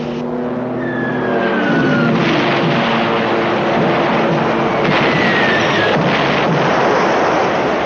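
Gunfire from an enemy ship in a submarine war film, heard as a loud, continuous roar of distant booming shots over heavy sea and engine noise, with whistling tones rising above.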